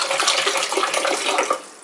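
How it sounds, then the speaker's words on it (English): Filtered water poured from a container into a kitchen herb keeper, a brief steady gushing splash close by with no talk. "What I like to do is add filtered water"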